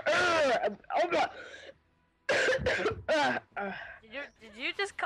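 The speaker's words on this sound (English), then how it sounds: "Did you just cough like?" A person coughs and clears their throat during a multiplayer gaming session, several sharp loud hacking bursts close to the mic, mixed with excited talking and laughter.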